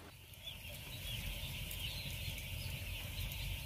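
Chickens in a brooding coop make a soft, faint background of clucks and peeps over a steady ventilation hum, distant and diffuse.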